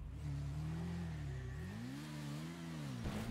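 A motorcycle engine in GTA V Online revs steadily, its pitch rising and falling as the bike is throttled through a parkour stunt, close and continuous with no talking.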